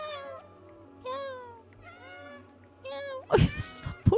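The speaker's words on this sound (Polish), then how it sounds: "Ja miauczę." Several distinct meows from a cat character in the video game Stray, spaced across the clip with short pauses between them, followed by a louder burst of noisier sound near the end.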